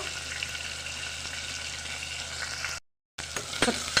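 Tomato and turmeric go into a pan of frying pepper rasam, giving a steady close sizzle broken by a short silent gap, then resuming with a few clicks and stirring sounds.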